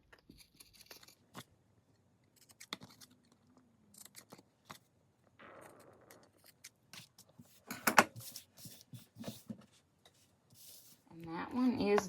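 Scissors snip and rustle through the paper edges of an envelope pocket, quiet and close, in scattered short cuts, with soft talking at moments and a louder crinkle of paper at the end.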